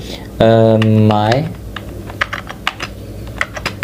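Code being typed on a computer keyboard while building a Laravel web app: a brief hummed tone opens the clip, then a steady run of close, crisp key taps in an uneven rhythm.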